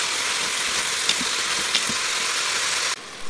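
Carrot, zucchini and celery sautéing in an Instant Pot for minestrone soup, a steady broadband sizzle throughout with a couple of faint clicks of stirring, cutting out sharply near the end.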